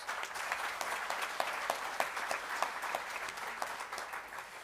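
An audience at a school exam awards ceremony bursts into lively applause, many distinct hand claps standing out in a rhythmic, bright patter that swells and persists across the room.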